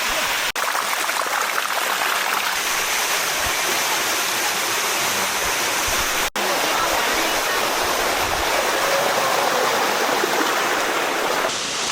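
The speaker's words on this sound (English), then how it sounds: "the spring water that runs over these falls" Steady, full rush of spring water pouring over limestone falls, a constant broadband roar close by with no pauses.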